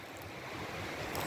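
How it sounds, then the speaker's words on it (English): Steady rushing water from a creek or river along the Foothills Trail, a continuous broadband wash with no pauses, heard alone at moderate distance with a slight breeze. "I do like the sound of listening to the creek or river or whatever all night"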